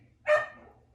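One loud, clear dog bark rings out and fades, followed by the start of another bark at the very end.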